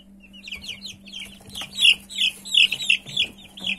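Several chickens cluck and chirp in short, overlapping bursts, fairly close, over a steady low hum.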